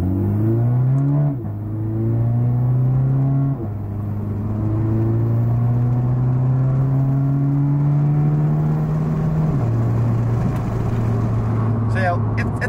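A car's automatic transmission shifts as the engine revs and settles in steps, pitch climbing then dropping with gear changes, steady and close throughout, on a Subaru BRZ/Toyota 86 type car.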